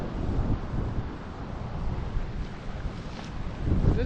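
Wind on the Oregon coast buffets the microphone in a steady, loud broadband rush, with surf-like noise beneath it and no speech.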